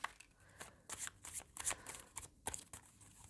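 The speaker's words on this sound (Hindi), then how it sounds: "फाइनल शफल बाबा जी" Tarot cards are shuffled by hand in a rapid series of soft papery riffles and flicks, faint and close, with no talk.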